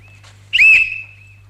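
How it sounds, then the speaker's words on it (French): A single sharp referee-style whistle blast rings out once in a quiet room in a 1951 staging of a stage play, loud and clear for about half a second before it fades, with no talking over it. "À mon coup de sifflet, il doit s'arrêter et le second commencer"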